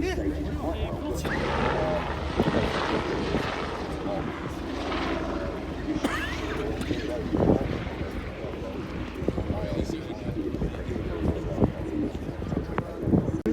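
A WRC rally helicopter's rotor thrum rumbles steadily overhead at Rally GB 2019, with people talking nearby and birds chirping in the background.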